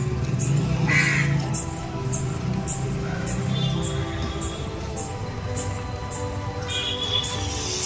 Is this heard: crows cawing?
yes